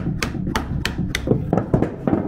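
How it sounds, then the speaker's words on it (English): A hammer taps a wooden wedge on an oak farmhouse door with about four crisp, evenly spaced knocks, then a quicker series of lighter, duller taps, all close and clear. "Get a hammer. So if I tap this,"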